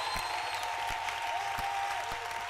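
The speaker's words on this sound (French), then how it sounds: "Applaudissez très fort pour le Seigneur" Congregation in a French-language church service applauding for the Lord, sustained clapping with rhythmic claps spread across the room and a faint tone over it.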